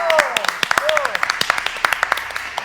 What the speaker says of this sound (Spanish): Fuertes palmas para ella